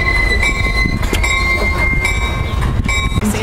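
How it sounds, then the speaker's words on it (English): A train rolls along the rails close by with a steady, loud rumble, rhythmic clicks from the wheels and faint squealing overtones, and no voices. "It's his first time driving a train."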